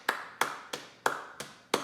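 Six sharp hand claps spaced evenly about a third of a second apart, close and crisp, each with a quick decay and no voices alongside.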